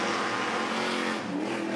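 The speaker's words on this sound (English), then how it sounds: "Just powering his way, feathering the throttle up through turn 11, back under the Velo Bridge" A 2,900-pound Boost Mobile Stadium Super Truck powers through turn 11 on the Adelaide street circuit, its engine roaring loud and steady as the throttle is feathered, with the pitch shifting slightly toward the end.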